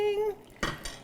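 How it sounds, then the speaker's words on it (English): A scoop dips into a bowl of orange-juice punch and pours a serving into a pumpkin cup, making one or two brief clinks and splashes close by after a moment of quiet. "we're just gonna take a scoop of the punch"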